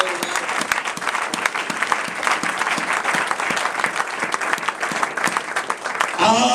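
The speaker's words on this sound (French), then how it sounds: "I want you to give a round of praise to the Lord now." A church congregation claps in sustained, dense applause that fills the whole stretch without a break, loud and close, with no voices rising above it.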